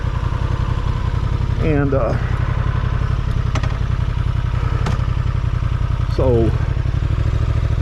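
A Honda Transalp 750 motorcycle engine chugs along at very low speed with a steady, close, loud pulsing, while someone speaks briefly over it.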